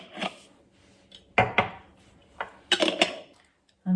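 Lids go onto glass jars filled with dehydrated spinach, producing several sharp clinks and clatters in uneven bursts, close by and separated by quiet gaps.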